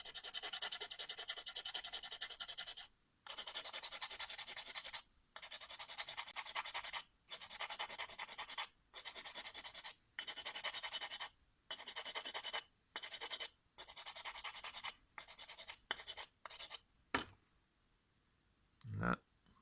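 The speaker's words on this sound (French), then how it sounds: "on peut donner un petit coup de ponçage pour que ça soit bien plat" A metal miniature's base is rubbed flat on sandpaper in quick repeated strokes, each a short soft rasp separated by brief pauses, close and quiet, ending with a few isolated scrapes.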